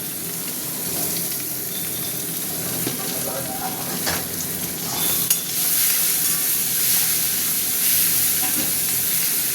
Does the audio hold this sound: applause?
no